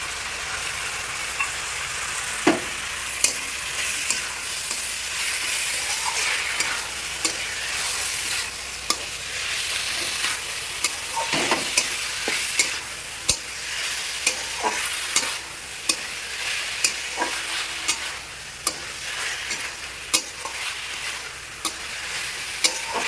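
Cumin paste being stirred with tomato and chicken in a frying pan: a steady sizzle runs throughout while a spatula scrapes and knocks against the pan in irregular strokes, close and fairly loud, with no voices.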